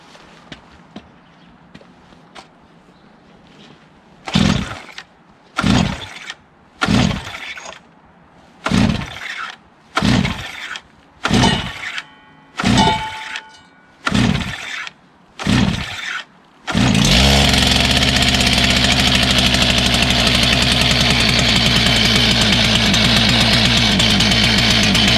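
A STIHL TS400 gas cutoff saw for concrete, set on full choke with the compression release lifted, is pull-started: about nine sharp rope-pull bursts in a steady rhythm, then the two-stroke engine catches and runs loud and continuous.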